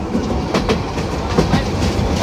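The Kishoreganj Express rolls along the rails between Kishoreganj and Dhaka with a loud, steady rumble and rhythmic clickety-clack of wheels over rail joints, heard from on board.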